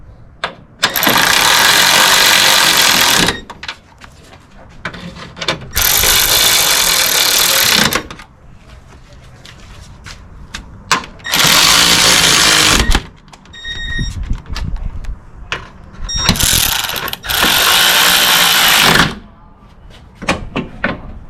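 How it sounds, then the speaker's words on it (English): A power tool bolts up the radiator support on a 2014 Toyota Sienna, four loud, sustained whirring bursts of a few seconds each, separated by quieter clinks and handling noise. "Bolting up the radiator support."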